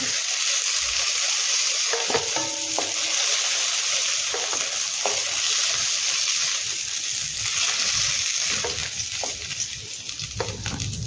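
Brinjal (eggplant) frying in hot oil in a pan gives a steady, close, dense sizzle, broken now and then by light clinks and scrapes of stirring.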